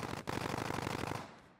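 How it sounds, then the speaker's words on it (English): Rapid automatic gunfire rattles in Call of Duty: Warzone, a dense, evenly spaced burst of shots heard up close that stops abruptly after about a second and a half. "These gunshots sound so fucking loud."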